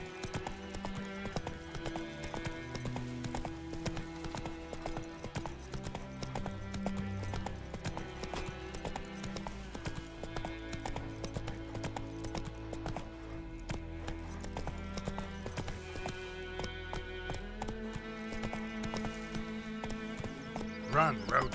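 Roach the horse galloping in The Witcher 3, steady hoofbeats running under a constant musical score that dominates, with the rhythm of the gallop carrying through the whole stretch at moderate level.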